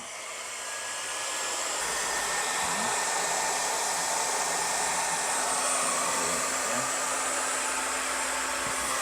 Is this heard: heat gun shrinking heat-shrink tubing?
yes